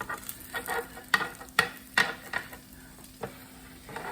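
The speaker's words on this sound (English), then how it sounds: "You want this nice and crispy, like that. Okay, I'm gonna take this off the griddle." A Cubano sandwich crisping on a griddle, a quiet low sizzle broken by several sharp scrapes and taps of tongs or spatula, close and without talking.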